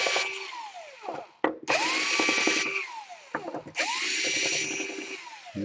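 A power screwdriver backs screws out of a hard drive in an Alienware 18 laptop, a close whirring buzz in two long bursts that wind down, separated by short clicks and pauses.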